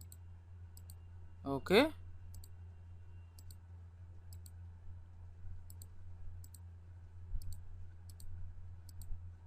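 Photoshop mouse clicks: a quick burst of sharp clicks near the start, then faint, sparse clicks spread through the rest, beneath a quiet steady hum with a brief word spoken.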